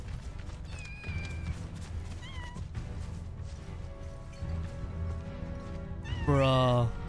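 Kittens meow in Final Fantasy VII Rebirth: a few scattered short mews over game music and ambient sound, ending in a louder, drawn-out cry close up. Speech 0.8 but no words spoken.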